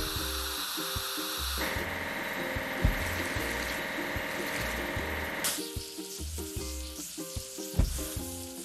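In a kids' construction truck game, a steady hissing water spray washes a vehicle for several seconds over looping, bouncy game music.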